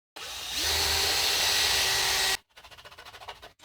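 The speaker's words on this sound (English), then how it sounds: "let's drill these holes" A power drill whirs steadily for about two seconds, boring screw holes in the body of a hollow Stratocaster guitar, then stops and gives way to quieter pulsing sounds, close by with no talk.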